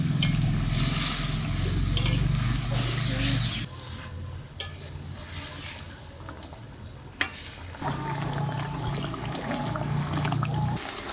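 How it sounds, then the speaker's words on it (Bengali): Fried fish goes into a simmering curry in a pan, with bubbling and sizzling, some stirring and scraping, and a few sharp clinks, moderately loud and close. "এখন ভেজে রাখা মাছগুলো দিয়ে দেবো।"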